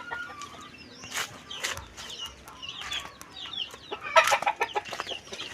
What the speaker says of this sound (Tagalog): Bibigyan ko po ng patuka at alangan pong hindi bigyan pagtanghali